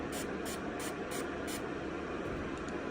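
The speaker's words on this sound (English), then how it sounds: "We're just gonna spray this so it can pick up more." Five quick, close spritzes of a makeup setting spray in a quiet room, evenly spaced hisses followed by a short pause.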